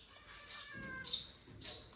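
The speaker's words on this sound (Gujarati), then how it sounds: "રસોડામાં મીંદડું આવ્યું" A cat in a home kitchen gives three short, faint meows in quick succession, with quiet room sound between them.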